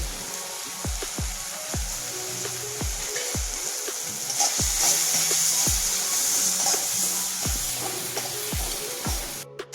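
Onion, tomato, curry leaves and spice masala sizzle steadily in a pan for masala bhindi, with loud continuous frying crackle and repeated sharp scraping stir strokes close by, and no talking.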